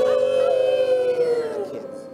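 Voices sing a long, wavering wolf-howl imitation in a children's song about animals boarding Noah's ark, a sustained wailing tone that slowly falls and fades.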